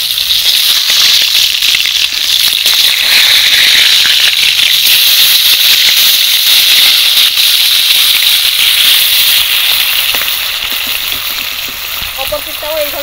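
Pangas fish pieces frying in hot oil in a home kitchen, a continuous loud hissing sizzle with crackling spatter throughout, steady and close.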